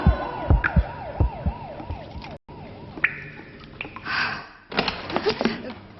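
An emergency siren wails in a rapid, repeating rise-and-fall pattern, loud and close, then breaks off amid other sharp noises and a gasping sound.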